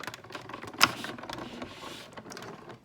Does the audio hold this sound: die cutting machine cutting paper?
yes